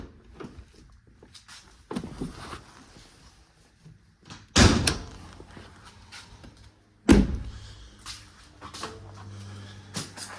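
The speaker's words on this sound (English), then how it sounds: "let me open up the hood again" Hood of a 2004 Mazda RX-8 with a carbon fiber hood being handled and opened, giving a few sharp clunks and knocks, two strong bangs standing out among quieter handling noises, close by with no talking.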